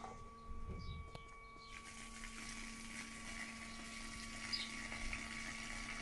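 A Makita 18V cordless submersible pump drains a 25-litre bucket of water, giving a steady low motor hum with a continuous trickle of flowing water throughout, close and fairly quiet.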